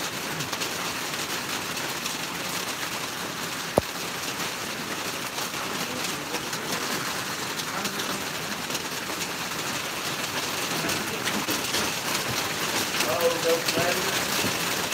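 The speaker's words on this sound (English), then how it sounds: "Man, it's raining. Can y'all hear the rain?" Steady rain falling, a dense even hiss throughout, with one brief sharp knock early on.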